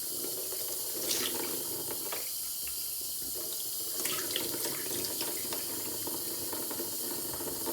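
A tap runs steadily as a Shark vacuum filter is rinsed under it, a continuous close splashing hiss with small shifts as the water hits the filter, no voices.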